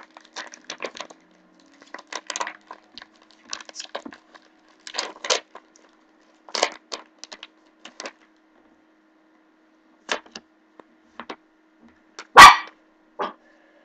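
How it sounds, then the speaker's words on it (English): A dog barks indoors in repeated short bursts with gaps between them, ending in one loud close yelp followed by a final bark. "Sorry about the dog, guys."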